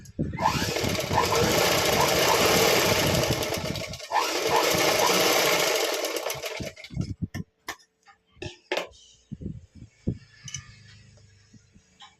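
A sewing machine stitches a lehenga top in two steady, loud runs of rapid needle clatter, then stops, leaving scattered clicks and fabric handling nearby.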